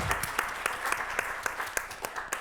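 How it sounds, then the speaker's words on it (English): Audience clapping at a crossword convention panel, a steady patter of many hands with sharper individual claps standing out, moderately loud and continuous. "Yeah, we can clap for that."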